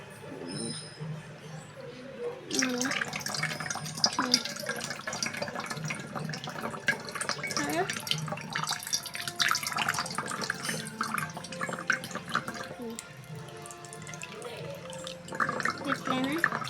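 Water runs steadily from an opened tap into a glass, a continuous splashing hiss that starts a few seconds in and keeps going under nearby talk.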